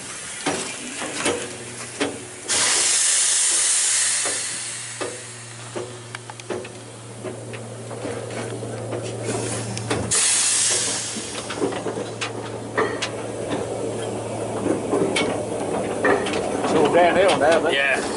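A steam engine vents steam at a family day, loud bursts of hissing that swell and cut off at intervals, alongside mechanical clanks and scattered knocks.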